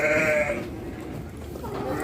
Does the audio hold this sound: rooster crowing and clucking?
no